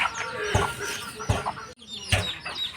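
A native village hen clucks in a few loud, separate bursts spaced about a second apart, up close, with soft background noise in between.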